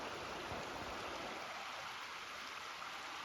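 A river flows past banks with a log jam nearby, producing a steady, broad rushing wash of water that stays constant throughout and carries no voices.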